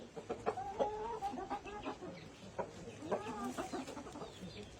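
Chickens cluck and squawk close by outdoors in quick irregular bursts, fairly quiet, with a rooster among the flock.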